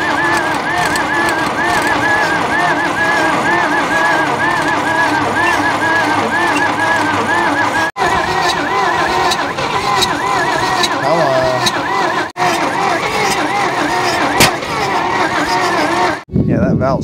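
A 1949 Dodge pickup left abandoned in the desert for decades cranks over with its throttle held wide open, a loud continuous rhythmic churning that runs nearly without pause, with brief breaks and people talking over it.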